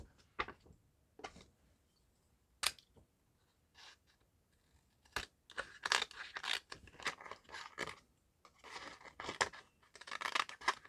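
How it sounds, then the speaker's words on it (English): Little craft scissors snip paper in a quiet room while journaling, giving sparse, short crisp cuts and rustles that grow into denser clusters of snipping toward the end, close and fairly soft, with no talking. "Those are convenient, those little scissors."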